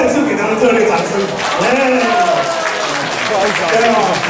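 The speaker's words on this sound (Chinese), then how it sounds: "我们再次给他们热烈掌声" Audience applause fills a Christmas party hall, a steady wash of clapping that runs the whole time beneath a loud voice talking over it.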